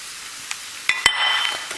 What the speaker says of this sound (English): I'm just going to mix it up and just toss it really quickly